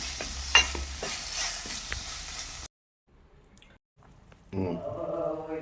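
Fish curry bubbles in a clay pot with a close, crackling sizzle and soft drips for a few seconds. It then cuts to near silence before another brief burst of sound returns at the end.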